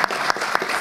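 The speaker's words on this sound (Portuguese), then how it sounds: "As palmas remotas aqui para você." A brief burst of remote applause during an online competition-law seminar panel, just a few separate, sharp claps spaced evenly in under a second, close and fairly loud.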